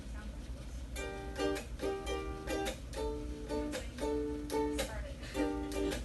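Strummed chords alternating with muted chuck strokes, a close, quiet rhythmic pattern of ringing strums broken by percussive damped hits over background hum.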